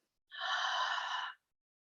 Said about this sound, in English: Breathing in, full breath, full capacity of the lungs, and breathing out.